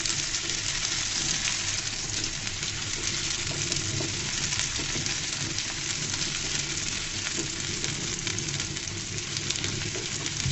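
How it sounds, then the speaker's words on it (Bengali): Chopped onions fry in hot oil until reddish, making a constant, even sizzle at moderate level with no breaks and no voices. "পেঁয়াজ কুচিগুলোকে আমি লাল লাল করে ভেজে নিব"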